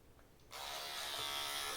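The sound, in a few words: T9 Vintage electric hair clipper running with comb attachment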